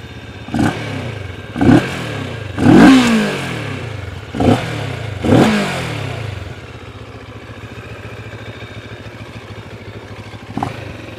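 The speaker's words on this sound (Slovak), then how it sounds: "Tento motor si môžeme teda aj naštartovať." A 2020 CFMOTO 650 GT twin-cylinder sport tourer starts up and runs nearby, with several sharp blips of revving in the first six seconds before settling into a steady, lower idle rumble.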